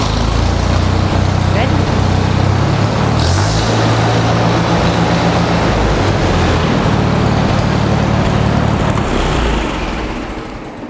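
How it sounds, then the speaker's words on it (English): Allis Chalmers tractor engine running after a Zenith carburetor rebuild, a loud, continuous close-up rumble with a change in pitch partway through, fading slightly at the end. "My carburetor is back on the tractor, so now we're ready to start it up and see how that improves."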